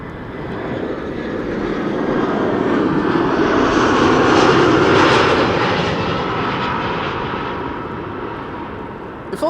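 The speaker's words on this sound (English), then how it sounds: "EasyJet A380 arriving from Manchester, next to land here." An easyJet A380 airliner arriving from Manchester lands at Amsterdam Schiphol, its engine roar building steadily to a loud peak near the middle, then slowly easing off, with no voices.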